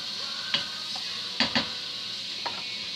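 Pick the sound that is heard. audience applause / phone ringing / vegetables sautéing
vegetables sautéing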